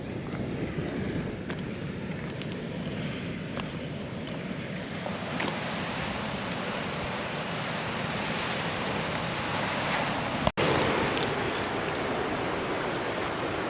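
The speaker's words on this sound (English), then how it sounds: "Some big waves out here." Big ocean waves breaking on the coast of an Australian peninsula, a continuous roaring surf wash with heavy wind buffeting the microphone and one sharp knock near the end.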